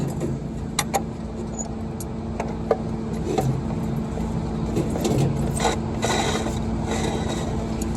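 Wrench working the blade nut loose on a deck saw, a steady mechanical rasp and scrape with a few sharp clicks and knocks, close by and continuous, with no talking.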